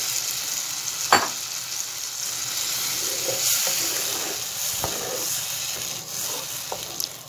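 Tomatoes frying and being stirred in a pan, a continuous close sizzle with occasional soft knocks and scrapes of the spoon, no talk.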